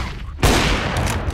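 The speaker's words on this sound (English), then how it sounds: "Right, flashbang." Flashbang grenade detonating in Counter-Strike: Global Offensive, a sudden loud burst that cuts in after a brief quiet moment and holds as a dense, sustained blast with ringing noise through the rest of the short moment.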